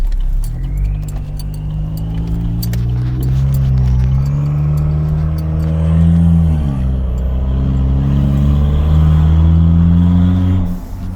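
A Chevy Silverado truck with the 2.7L Turbomax engine and modified exhaust drones from inside the cab, a loud, deep steady hum that swells briefly as the revs rise and dip, with light jingling rattles early on.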